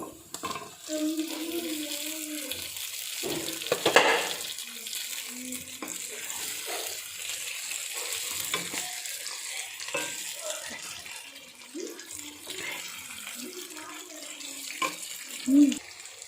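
Chicken pieces sizzle and fry in a pan for a Nellore-style chicken fry, a steady close hiss with scraping and stirring clatter throughout, a louder clink near the start and another toward the end.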